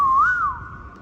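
A single person whistles one clear sustained note that swoops gently up and back down, then lingers as a steady tone, close and fairly loud over faint background hiss, with no talking.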